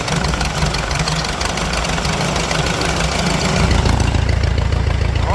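A warm Farmall H tractor engine idles loudly and close while its carburetor is tuned, a rough, knocking chug that steps up into a deeper, fuller beat partway through.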